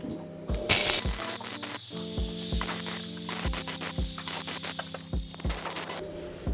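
A gate hinge being tack welded onto a post, with short crackling bursts of the arc separated by brief pauses, sitting close and fairly loud with no talk.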